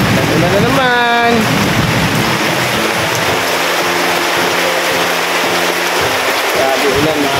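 Heavy rain pounds down in a constant, dense hiss, while a voice briefly speaks over it.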